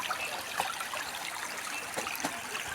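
Flowing stream water where women wash clothes, a steady broadband trickle and babble running throughout, moderately close with a few brief splashes, no voices.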